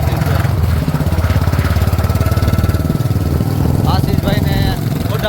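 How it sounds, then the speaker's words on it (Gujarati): Royal Enfield Bullet motorcycle engine thumping in a fast, steady rhythm while riding close-up, loud and continuous, with someone talking briefly near the end. "બહુ બુલેટનો અવાજ કરે છે."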